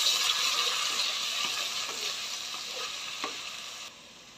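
Curry leaves, ginger, chilli and tomatoes sizzle in a pan as they are stirred together, giving a bright, hissing fry with faint scraping strokes that eases off slightly near the end.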